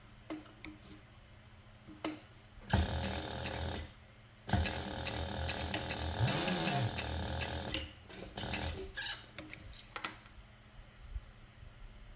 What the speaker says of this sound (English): we are going to place the adjuster on one end, and then we're going to sew this together.